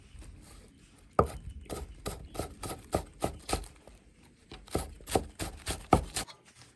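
A knife chops scallions on a cutting board for a cold-dressed crispy pork trotter dish, a quick run of sharp close taps in uneven bursts after a quiet start, with no talk.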